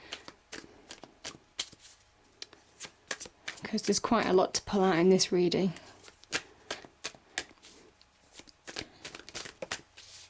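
Quick, crisp riffling of tarot cards repeats in short bursts under a person talking, with a louder flurry in the middle.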